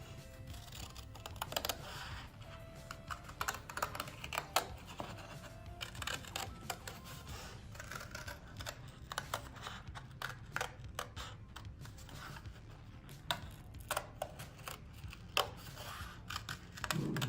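Scissors snipping around a paper heart for a Valentine craft, a steady run of small close crisp cuts and rustles of paper, with no talking over them.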